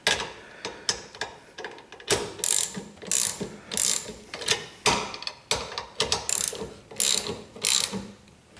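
A ratchet tightens the clamp bolts on a trailer hitch anti-rattle clamp, giving close, loud bursts of rapid pawl clicks in repeated strokes with short pauses between them.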